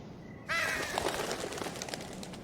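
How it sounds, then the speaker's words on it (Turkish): Crows caw in the Game of Thrones video game, a few harsh calls that break in suddenly over a steady hiss of ambient noise at moderate loudness. "Kargalar margalar."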